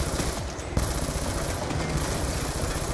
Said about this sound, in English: They got more auto turrets.